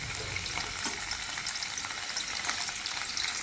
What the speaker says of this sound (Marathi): आता यांना तळून घेते मी